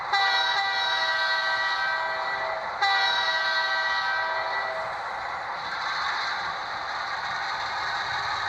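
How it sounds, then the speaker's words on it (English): A train hauls past with its horn sounding, a loud, sustained chord that holds steady over a continuous rail rumble and briefly cuts out and resumes. "you're supposed to hear the train hauling"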